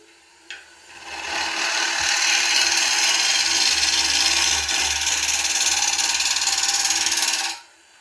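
A bowl gouge cuts across the face of a wooden bowl turning on a lathe at just over 700 rpm, making one loud, continuous scraping hiss that swells in quickly and cuts off sharply at the end.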